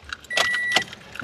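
A car key with many dangling keychains jangles close up inside a car, two quick bursts of bright metallic rattling with brief quiet between them.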